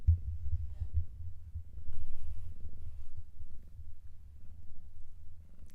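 A cat purrs right against the microphone, a steady low rumbling throb that carries through the whole stretch, loud and close, with no talking over it.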